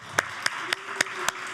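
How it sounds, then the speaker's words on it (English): A conference audience claps in a round of applause, five sharp, evenly spaced claps ringing out in a steady rhythm over a quiet room, with no talking. "I just want to give another round of applause to Helen Milby and to Debbie Cox-Bolton"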